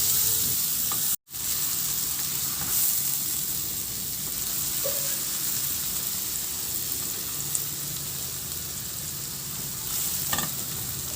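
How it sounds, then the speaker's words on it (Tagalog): Onions sauté in a pan, giving a continuous close sizzle with stirring scrapes over it and one brief dropout near the start, with no voices. "ihalo hanggang sa maluto lang din yung sibuyas."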